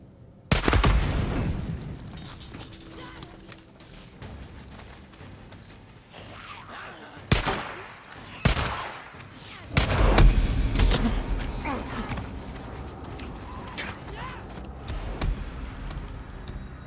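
Gunfire in Days Gone: several loud separate shots and short bursts ring out over a low ambient game backdrop, spaced with quieter gaps, followed by a heavier sustained volley near the end.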